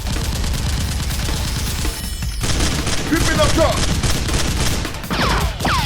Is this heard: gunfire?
yes